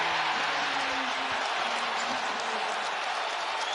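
A basketball arena crowd roars and cheers in a dense, sustained wall of noise, loud and continuous throughout with scattered applause mixed in.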